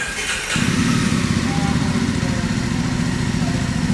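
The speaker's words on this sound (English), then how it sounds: "Let me start the vehicle." A 2021 Jawa 42 motorcycle engine catches and settles into a steady, throaty idle that continues close by.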